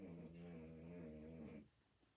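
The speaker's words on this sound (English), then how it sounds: "That's the dog snarl, Chief." A dog snarls in a low, rumbling growl that holds steady for about a second and a half, then cuts off into near silence. The sound is faint and close.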